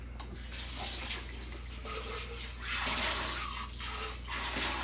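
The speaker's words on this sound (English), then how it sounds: "now is the perfect time to do the dishes" Kitchen sink tap running steadily while dishes are washed, a broad rushing splash with small shifts as the flow hits objects, close and continuous over a low hum, with no talk.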